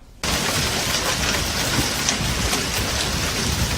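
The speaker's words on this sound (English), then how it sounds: "powerful storms brought heavy winds, rain, and hail to eastern North Carolina" A powerful storm in eastern North Carolina brings heavy wind and rain. After a brief quiet start, a loud, dense, continuous roar of downpour and gusts sets in and holds steady without speech.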